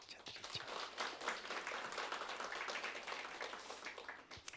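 A church congregation applauds together in a dense, steady wash of clapping that fills the room and runs continuously at moderate distance, with a low hum underneath.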